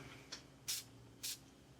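Xerjoff 40 Knots perfume sprayed from an atomizer, one short faint puff followed by two louder, crisp misting bursts, close and alone in a quiet room.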